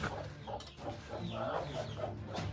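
Chickens cluck softly and steadily on a farm, low and close, with chicks present and no other sounds standing out.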